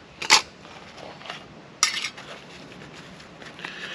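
A small Fox Outdoors metal cook set is pulled from its little bag, giving two bright metallic clinks and rattles a second or so apart, then quieter faint jingling, close and clear with no talking.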